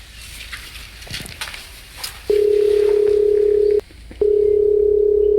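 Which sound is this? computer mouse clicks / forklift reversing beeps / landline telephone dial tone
landline telephone dial tone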